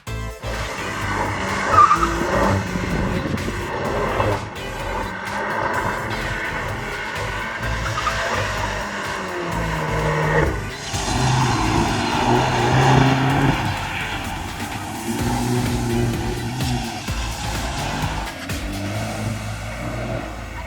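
2022 Volkswagen Golf R Mark 8, all-wheel drive, skidding on a skid pan: loud, sustained tyre squeal rising and falling over a revving engine, close and continuous throughout.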